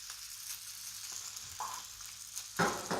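Buckwheat burger mix sizzles in olive oil in a frying pan inside a cookie cutter, a soft steady crackle with a few louder spits and bursts near the end; no talking.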